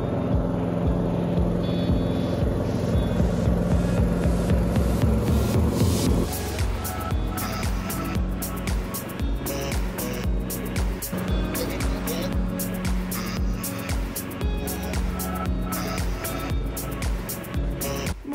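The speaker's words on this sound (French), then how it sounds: "je me suis calée sur mon petit tracteur et on va finir de tondre la dernière partie qui reste" Small ride-on tractor mowing a horse pasture, its engine droning steadily at close range, the tone shifting partway through as the load changes.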